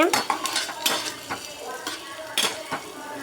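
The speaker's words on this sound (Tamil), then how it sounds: "நம்ம வதக்க ஆரம்பிச்சிடலாம்." Food sautéed in a pan with a spatula, repeated metallic scrapes and clinks against the pan over a low sizzle, close and fairly loud, with no talking.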